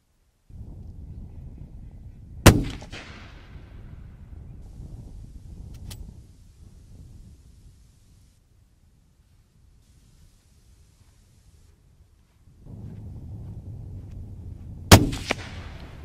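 Two loud, sharp rifle shots from a Merkel RX Helix fired at a range of just over 100 meters, about twelve seconds apart, each a sudden crack with a short decay over steady outdoor wind noise and a quiet gap between.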